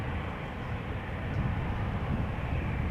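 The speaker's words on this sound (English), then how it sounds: "taxiing this way, still in the distance but coming. Dynamic duo, KLM 737s" Distant KLM Boeing 737 jets taxiing at Amsterdam Schiphol Airport, a steady broad low rumble and whine that holds at an even level throughout without clear approach or pass.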